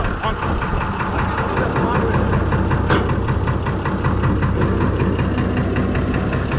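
Fordson Major tractor fitted with a Perkins straight-six diesel running steadily up close, a loud rhythmic knocking chug throughout, with someone talking briefly over it.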